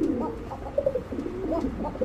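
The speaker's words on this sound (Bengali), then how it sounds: "দেখছেন গোবিন্দ কোকার ডাকটা" Gobinda Koka pigeons coo in low, throaty bursts that repeat steadily from close by with no talk.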